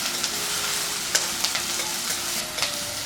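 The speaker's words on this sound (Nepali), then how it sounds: "अब यो प्याजलाई अलिकति ब्राउन हुने गरी फ्राई गरौँ।" Onions frying in a pan until light brown for Nepali kwati with momo, a steady close sizzle with a few sharp stirring clicks and scrapes scattered throughout, no voices.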